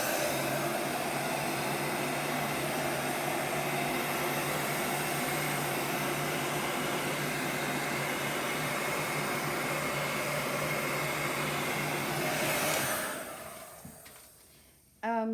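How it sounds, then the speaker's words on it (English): A heat gun blowing steadily over a galaxy-style resin pour, a loud, close, continuous airy roar that holds for about twelve seconds before winding down and cutting off. "once again with the heat gun."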